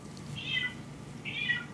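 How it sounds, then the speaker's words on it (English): A house cat meows twice, distinct moderately loud mews about a second apart over a low room hum during a podcast recording. "I hear your cat."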